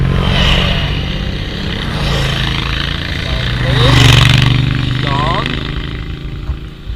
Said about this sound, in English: Oh, we have some motorcycles again, will be very loud in a second.